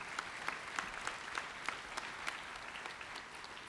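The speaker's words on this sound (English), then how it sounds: "A round of applause for them all." A room of people applauds at a university convocation, distinct claps popping through a steady patter, moderately distant and fairly soft.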